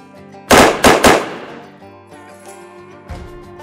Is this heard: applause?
no